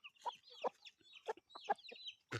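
Backyard chickens raised at home give a series of short, quiet clucks and murmurs close by, spaced irregularly with brief silences between them.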